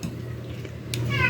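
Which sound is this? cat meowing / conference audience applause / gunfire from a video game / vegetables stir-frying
cat meowing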